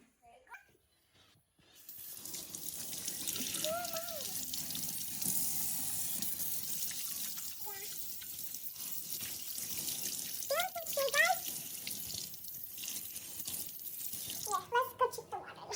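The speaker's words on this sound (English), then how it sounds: "I'm going to wash my hands." Water runs from a kitchen tap for hand washing, a steady hiss and splash that continues after a quiet start. A voice talks intermittently over the flow.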